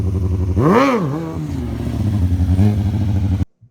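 A stunt motorcycle engine revs in a sharp rising-and-falling throttle blip, then settles into a rough idle before a second smaller rev, close and loud, cutting off abruptly at the end.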